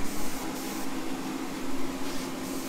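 Filler primer sprayed onto the oil pan of a 6-71 Detroit Diesel engine, a steady close hissing spray with a few slight surges in level and no talk.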